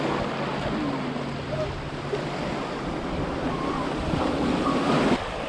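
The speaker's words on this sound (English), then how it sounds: "We are now at the Red Beach in Greece, in Santorini." Waves washing onto the shore at Red Beach on Santorini, Greece, a steady broadband surf roar with wind buffeting the microphone, loud and continuous with no voices.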